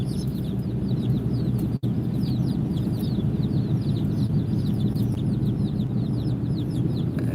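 A flock of chickens clucks continuously nearby, overlapping rapid calls over a dense, steady background murmur.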